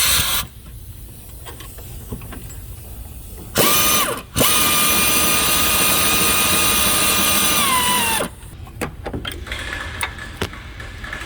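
Ratchet wrench fitted with an extension turning out a bolt on the ABS module of a 2014 Equinox, a steady close rapid clicking sustained for several seconds between quieter handling sounds.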